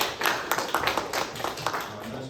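Congregation at a Korean Sunday worship service clapping in welcome, a loose run of individual claps from a small group, fairly close, with a voice speaking over part of it.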